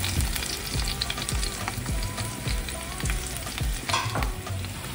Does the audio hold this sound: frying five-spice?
yes